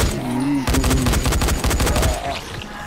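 Rapid automatic gunfire in Dying Light, a loud sustained burst of evenly spaced shots lasting well over a second, preceded and followed by a low whining tone, with no voices.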